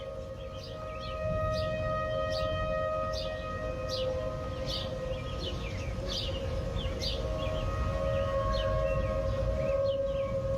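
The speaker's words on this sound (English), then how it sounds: "We've got some video of really some sirens going off in Schaumburg, Bill, right now." Civil defense tornado sirens wail in Schaumburg, a steady, haunting tone sounding from a distance throughout, with birds chirping repeatedly in the foreground.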